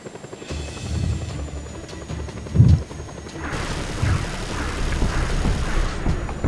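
A helicopter in the video game Just Cause 2 drones steadily with a rotor hum, joined by a sudden thump midway and louder rumbling engine noise later, heard alone without talk.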